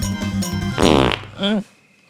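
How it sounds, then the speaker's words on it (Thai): Buffalo fart as a comic sound effect in a film trailer, a loud close blubbering burst with a rough fluttering texture, followed by a shorter rising squeak, set against a backing tone that cuts out. "ควายตดใสซะงั้น"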